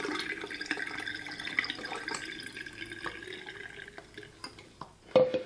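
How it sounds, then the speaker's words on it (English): Warm tap water from a faucet pours down a sink drain through a funnel, a steady close trickling and gurgle of running liquid with a few drips, fading near the end before a brief splash. "Just get some warm water out of your faucet, and you're literally just going to be dumping it down in there"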